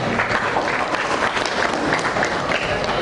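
An audience claps steadily at a school closing ceremony, a dense, even applause that fills the whole stretch without pause, with the crowd close and loud.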